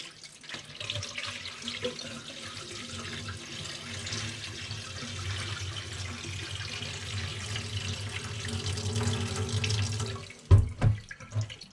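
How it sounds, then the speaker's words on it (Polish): Water pours steadily off washed sushi rice for several seconds, a continuous close rushing splash that ends with a few heavy sloshes and knocks of the bowl. "Wylewamy wodę."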